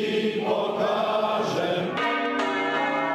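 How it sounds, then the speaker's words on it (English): Church bells ring for peace in Ukraine, a loud, continuous peal of overlapping metallic tones with new strikes layering in partway through, and no voices heard. "Church bells ringing across Europe for peace in Ukraine"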